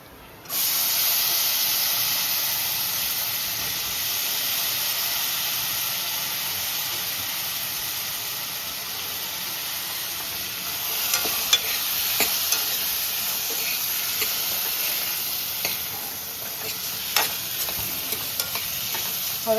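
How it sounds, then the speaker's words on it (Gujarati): Potato chips sizzle loudly in a hot pan with asafoetida and turmeric, starting abruptly and holding a steady, bright hiss for the whole stretch, with occasional scrapes of stirring and no voices. "હવે આપણે નાખી દઈશું બટાકા ચિપ્સ."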